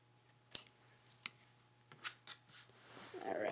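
Scissors snipping curled craft pieces, a few sharp, separate cuts at an uneven pace, close and fairly quiet over a soft rustle of paper that grows toward the end.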